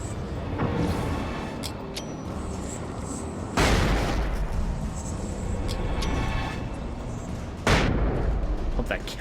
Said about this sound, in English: next one I'm gonna use a flashbang on because I have several flashbangs as well